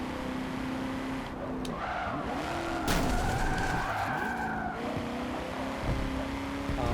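A race car in Forza Motorsport 7 runs a muscle car race, engine droning loudly while tires skid and squeal through corners with pitch sweeps and gear-shift swoops, close and steady.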